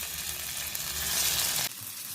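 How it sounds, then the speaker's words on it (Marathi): Tubers fry in ghee on a hot griddle, giving a steady, close sizzle that cuts off sharply near the end and drops to a softer hiss. "हे सगळे कंद मी आता एकदाच तळून घेते"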